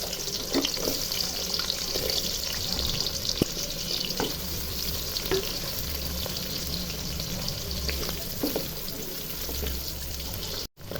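Coarsely chopped onions hit hot oil in a pan on the stove and keep up a steady, bright sizzle close by, with no voices over it.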